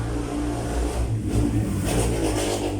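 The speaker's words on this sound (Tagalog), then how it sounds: "nasa ano lang ng kalsada kaya naririnig nyo yung mga motor" Motorcycles rev and pass close by on a roadside, loud and rumbling, with road noise swelling throughout.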